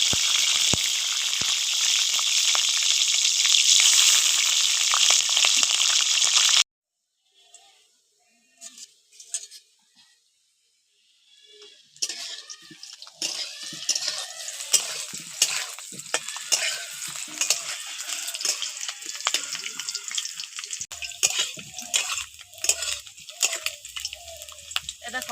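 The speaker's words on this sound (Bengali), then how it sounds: "দেখো, আলুগুলো খুব ভালো করে ভেজে নিয়েছি।" Potatoes fry in oil with a loud, dense sizzle for several seconds, which then cuts off abruptly. Quieter clatter and stirring sounds follow, with a voice talking now and then.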